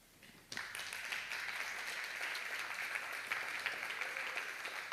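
An audience at a conference opening ceremony starts clapping abruptly after a brief quiet moment, then holds a steady, moderately loud round of applause for the speakers being introduced, with no voices.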